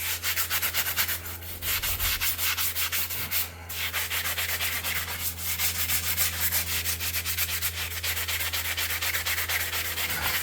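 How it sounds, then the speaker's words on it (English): Steady, close rasping comes from sanding a horse's hoof as it is prepared for special shoes and pads, a continuous gritty scrubbing with no voices. "Sand his foot."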